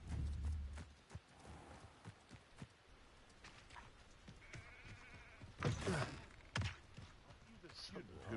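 A sheep in the video game Hogwarts Legacy bleats amid scattered thuds and hoof-like clip-clops, fairly faint, with game ambience and clatter around it.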